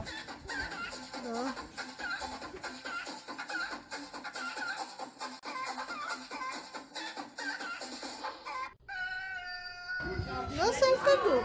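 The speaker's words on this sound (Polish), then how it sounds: "No są koguty." Roosters crow and cluck amid loud chatter, with a clear, drawn-out crow rising near the end over the background voices.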